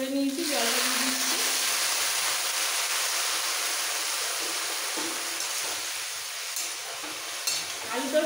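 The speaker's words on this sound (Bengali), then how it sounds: "এই ছোটো বাটির 1 বাটির মতো গরম জল করে নিয়েছি, জলটা দিয়ে দিচ্ছি।" Hot water poured into a pan of frying spices for Bengali murighonto bursts into a loud, close, continuous hiss and sizzle that settles into a steady, slightly softer sizzle.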